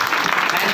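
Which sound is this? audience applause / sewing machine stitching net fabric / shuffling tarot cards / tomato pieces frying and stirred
audience applause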